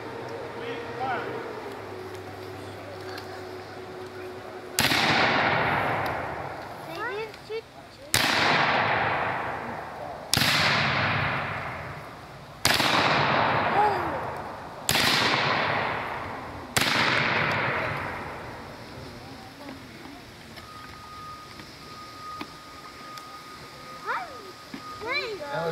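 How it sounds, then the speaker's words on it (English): Civil War reenactors fire muskets by files at a 150th anniversary event for the Battle of Johnsonville, Tennessee: six sharp, loud reports spaced a few seconds apart, each with a long echoing tail, after a faint stretch at the start. "what you saw was firing by files"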